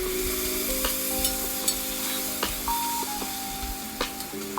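Tomato puree and chicken fry for kabsa in a hot pan, giving a close, continuous sizzle broken by frequent scraping stirs and a few soft clicks, with a steady tone in the background and no voices.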